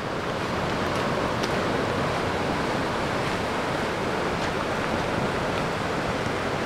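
Steady heavy rain pours down beside a flooded road in Big Thompson Canyon near Estes Park, Colorado, with rushing floodwater nearby; a dense, unbroken hiss fills the scene evenly throughout, with no voices.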